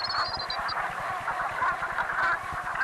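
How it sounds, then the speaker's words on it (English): A flock of geese back from Siberia honks continuously at mid distance, a dense overlapping chorus of calls over steady outdoor background noise. "Geese are back."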